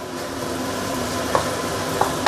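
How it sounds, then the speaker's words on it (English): Spice paste for a Malaysian home-style chicken curry sizzles steadily in a pan over medium heat, a dense close frying hiss broken by a few sharp stirring scrapes. "this is after about 3-4 minutes sauteing under medium heat"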